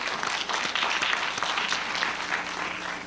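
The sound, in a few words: audience applause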